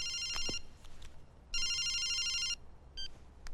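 A telephone rings in short electronic bursts, a brief trill, a longer ring of about a second, then a short chirp, fairly close over a quiet room.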